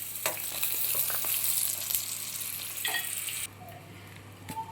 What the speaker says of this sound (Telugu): కరివేపాకు కూడా వేయించుకోవాలి